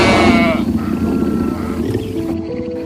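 In a cartoon story, sheep bleat in alarm as a big lion attacks the flock. A wavering bleat opens the scene, then a low rumbling growl and animal noise continue under a narrator's voice.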